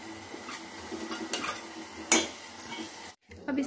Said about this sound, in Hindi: अब इसके अंदर हम डालेंगे बिरिस्ता।